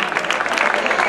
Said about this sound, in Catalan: Un aplauso para estos